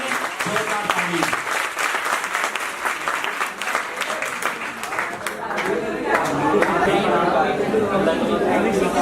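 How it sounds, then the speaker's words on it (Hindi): Loud, dense applause from a college audience at a poets' gathering at the Government Degree College in B.B. Nagar, a steady roar of many hands that swells toward the end, with crowd chatter mixed in. "जोरदार तालियां।"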